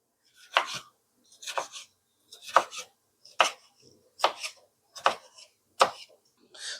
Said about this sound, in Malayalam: അപ്പോൾ നമുക്ക് തക്കാളി അരിയാം.